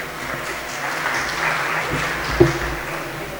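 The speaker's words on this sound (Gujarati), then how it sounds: "શ્રીમાન ડોક્ટર કાનજી ભાલાળા સાહેબ માટે જોરદાર તાળીઓના નાતે." An audience at a health talk about kidneys claps steadily in a continuous, moderately loud wash of applause, with one sharper knock near the end.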